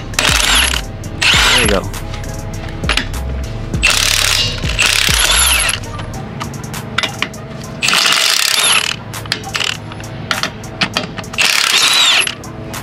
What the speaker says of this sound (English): let's start removing the lug nuts